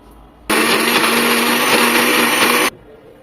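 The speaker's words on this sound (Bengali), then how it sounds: "সব কিছু একসাথে ব্লেন্ড করে নেব।" A blender whirs through sauce ingredients including cheese, salt, sugar and white and black pepper, a loud, close, continuous roar that starts abruptly, lasts about two seconds and cuts off sharply.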